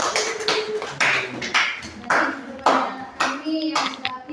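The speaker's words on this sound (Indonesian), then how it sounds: "tepuk tangan." A small group of students clapping in bursts during an online coding and artificial intelligence lesson, the irregular rounds of claps overlapping with chatter and voices.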